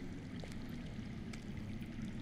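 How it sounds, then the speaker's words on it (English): Steady, low rushing water flows underground in a Game of Thrones Telltale video game scene, a constant muffled wash with no talk over it. "That's water. I hear water. From underground."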